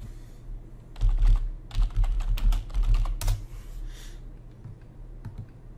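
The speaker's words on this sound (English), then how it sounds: "Let me just type in eyebrow pen." Typing on a computer keyboard, close and fairly loud, with irregular bursts of key clicks and thumps over about four seconds and no talk.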